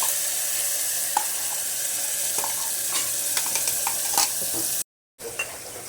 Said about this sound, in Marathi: तेल दोन चमचे घातलेले आहेत ते तापलेलं आहे त्याच्यामध्ये हा मसाला घालायचा